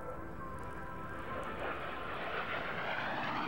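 Aircraft engine drone from a plane flying formation passes down the flight line at a 1999 air and trade show in Dayton, Ohio, a steady, fairly distant roar that swells slightly toward the end.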